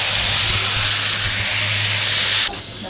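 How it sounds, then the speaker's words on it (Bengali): Vegetables frying in a cooking pot for a khichuri meal give off a loud, close, steady hiss and sizzle that stops abruptly near the end. "এখানে কি এখন সবজি ভাজা হচ্ছে"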